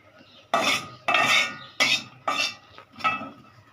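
Freshly made fried rice being served with a spoon, the spoon scraping and clinking against a pot or plate in five distinct scoops, fairly close and clear, with no talking.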